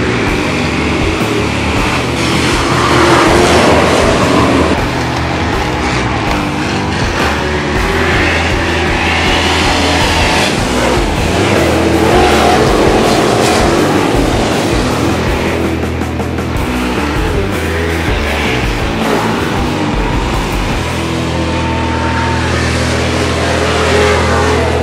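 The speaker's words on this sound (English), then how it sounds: "the E-Mods get their feature race underway" Dirt track E-Mod modified race cars roar through a feature race at Valley Speedway, a loud, continuous engine drone with rising and falling pitch as cars pass, layered and unbroken throughout.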